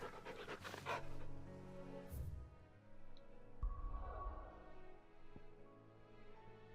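A hound panting in Final Fantasy XVI, with quick rhythmic breaths over game music and ambient sound.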